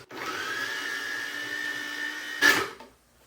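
A thrift-store food processor runs with a steady, even motor whine and hum, close by, ending in a brief louder burst before it stops.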